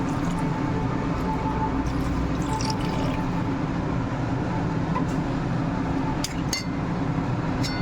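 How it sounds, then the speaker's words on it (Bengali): Warm water is poured into a pan of Bengali pabda fish curry, making a continuous close splashing and gurgling wash that fills the whole stretch at an even level, with a few brighter drips near the end. "এর মধ্যে দেবো হালকা গরম জল,"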